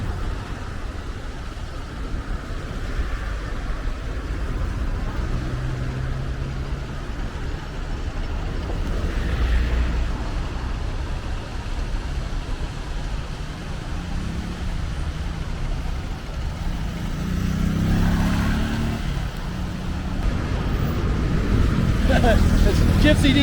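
Busy city street traffic in Mexico City near tall buildings and a fountain, a steady wash of car, bus and truck engine noise with passing vehicles swelling louder, while someone talks over it throughout.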